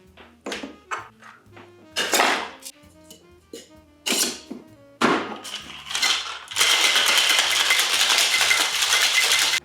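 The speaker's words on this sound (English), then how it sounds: "Add ice to your shaker and give this a shake." Ice cubes drop into a metal cocktail shaker with a series of clinks and thunks, followed by a vigorous, continuous rattling shake, loud and close, over soft background music.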